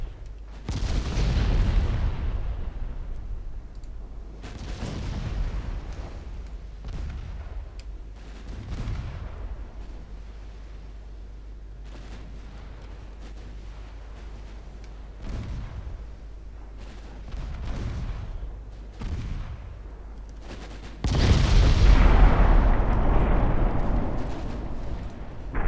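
Heavy naval guns boom in repeated salvos against ships in Ultimate Admiral Dreadnoughts, each deep blast rolling off into a long rumble, with a louder broadside near the end.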